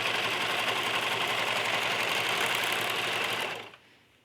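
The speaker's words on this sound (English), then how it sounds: "So I just use the serger to finish off those edges, give it a nice look, and prevent the flannel from fraying." A serger overlocks the raw edges of small flannel doll pant legs, giving a steady, fast mechanical whir that runs evenly for several seconds and then stops abruptly.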